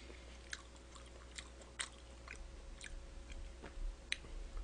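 Raw yellowtail and mullet sashimi is chewed close to the mic: soft, wet, faint mouth clicks and squishes in an irregular rhythm, with no talking.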